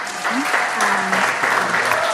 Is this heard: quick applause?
yes